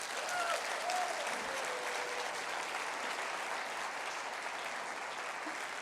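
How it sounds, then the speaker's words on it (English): Sustained audience applause fills the room after a talk at a business conference, a dense steady wash of clapping that holds at an even level throughout with no speech over it. "Another round of applause for Becky."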